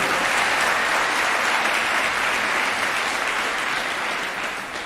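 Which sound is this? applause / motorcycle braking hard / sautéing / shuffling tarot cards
applause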